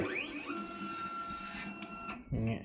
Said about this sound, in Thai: พอเรากด Option นะครับตรงนี้ เราจะเลื่อนหัวพิมพ์ได้